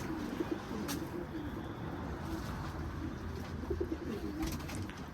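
Pigeons cooing in a loft with many birds, soft low repeated coos overlapping steadily, close and moderately loud, with occasional faint clicks and flutters.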